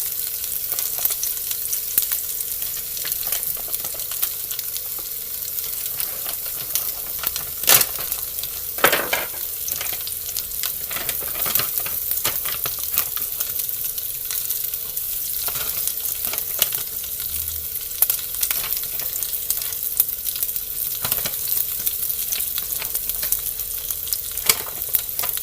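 Chicken potstickers frying in hot oil give a dense, continuous sizzle with scattered sharp pops and crackles throughout, close and steady with no talking.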